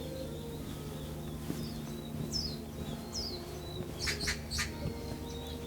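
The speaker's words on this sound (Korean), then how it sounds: "우리가 오니까 까치도 오는구나." Bird calls, likely a magpie, chirp in a few short bursts at a temple pilgrimage site, moderately distant over steady low background hum, with no talking.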